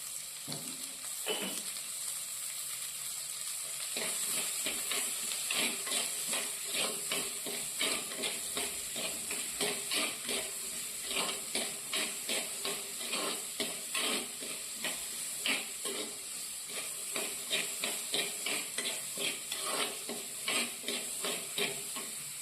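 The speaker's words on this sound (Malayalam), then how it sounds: "കുറച്ച് ചേർത്ത് ഇതൊന്ന് വഴക്കിയെടുക്കാം" Green chillies and small onions sautéing in a pan for a tuna curry, a steady close sizzle with rhythmic scraping spatula strokes repeating throughout.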